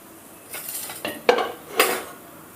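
A metal lid comes off a pot of steamed kozhukattai with several clanks and scrapes of cookware, close and fairly clear in a quiet kitchen.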